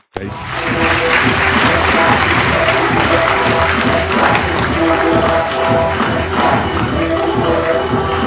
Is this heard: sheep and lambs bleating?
no